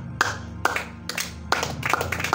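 Several sharp hand claps in an irregular rhythm, close and fairly loud, over a steady low hum.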